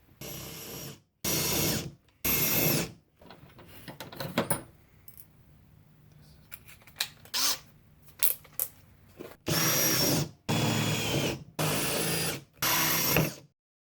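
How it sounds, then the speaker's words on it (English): Power drill boring bolt holes through a metal tray, loud whirring bursts of about a second each, three at the start and four at the end, with quieter handling clatter in between. "When drilling the holes for the bolts"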